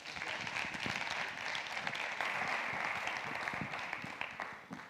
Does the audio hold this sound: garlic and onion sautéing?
no